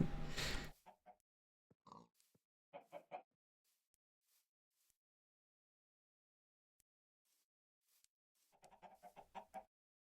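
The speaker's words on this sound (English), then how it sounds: "Well, I found some chickens." Minecraft chickens cluck in short, clear bursts, a few spaced clucks early and a quicker run at the end, with silence in between.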